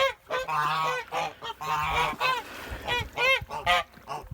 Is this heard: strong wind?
no